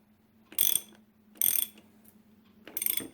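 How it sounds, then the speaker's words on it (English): Ratchet wrench loosening a bolt on the steering head of a 2016 BMW S1000RR motorcycle, three short bursts of rapid metallic clicking close up, separated by quiet pauses. "I'm going to be taking this bolt out right here"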